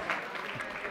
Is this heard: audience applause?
yes